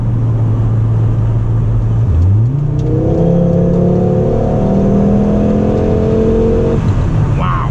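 A 1998 Volvo S70 T5 turbo sedan accelerates hard from inside the cabin, its engine note dipping at a shift and then climbing steadily in a loud, sustained rev with turbo whir.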